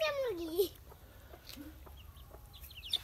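A chicken hen on a rural Bangladeshi homestead clucks in a short rising-falling call near the start, followed by a few softer clucks and faint chirps over quiet yard background.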